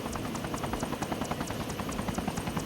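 An Arma helicopter drones steadily with a fast, regular rotor chop, loud and close throughout, with no voices.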